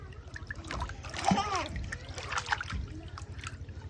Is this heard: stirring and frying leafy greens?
no